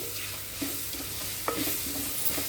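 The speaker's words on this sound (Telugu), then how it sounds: "ఉల్లిపాయ బాగా చక్కగా వేగాలండి వేగితేనే టేస్ట్గా ఉంటుంది" Chopped onions with seasoning frying for a dal, a soft steady sizzle broken by several light scrapes and taps of a spoon stirring in the pan.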